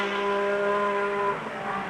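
A Renault Alpine A442 race car with a 2-litre V6 turbo at Le Mans in 1978 sustains a loud, steady engine drone that shifts in pitch near the end as it passes.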